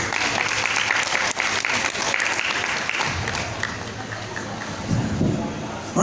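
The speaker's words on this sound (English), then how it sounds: "Everyone, let's give them another round of applause." A room full of people at a debate applauds, dense clapping that stays steady and fairly loud throughout before thinning slightly toward the end.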